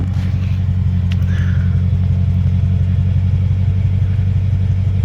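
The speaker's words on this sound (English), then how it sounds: "I think the Borla Pros are probably the most authentic sound you're going to get for your car." Steady deep exhaust rumble from a 2016 Dodge Charger R/T fitted with Borla Pro XS mufflers, a loud, even idle burble close to the car with no talk.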